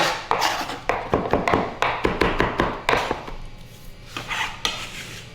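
Fresh rosemary roughly chopped with a knife on a cutting board, a quick run of sharp rhythmic knocks close up, followed by a few scattered taps.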